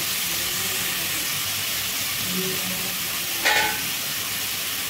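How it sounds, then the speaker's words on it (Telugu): Cluster beans fry in oil under a lid over medium heat, giving a steady close sizzle and hiss throughout, broken by one brief metallic clink near the end. "ఆయిల్లో బాగా మగ్గనివ్వాలి. మూత పెట్టేసుకొని మగ్గించుకుందామండి."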